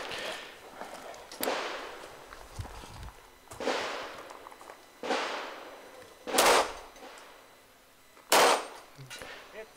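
Pistol rounds striking steel plates at a practical shooting match, heard as about six sharp, ringing impacts spaced irregularly across the stretch, fairly close, with a faint voice in the background.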